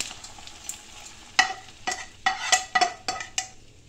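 A spice tempering for tamarind-flavoured poha fries in oil in a pan at close range, with a soft sizzle under a run of sharp scraping and clinking stirs from a spoon against the pan.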